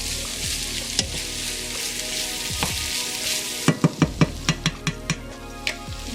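Onions for shepherd's pie fry in a pan with a steady close sizzle, broken by a quick run of sharp clicks and scrapes from stirring partway through.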